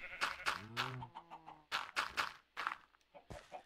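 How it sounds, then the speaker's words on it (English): Sheep in the video game Minecraft bleat with a clear wavering call amid clicky footstep-like sounds. Several short bursts follow at close range. "Ah, the sheep are eating."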